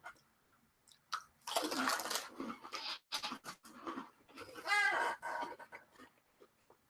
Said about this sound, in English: You have roughly until the time I'm done chewing.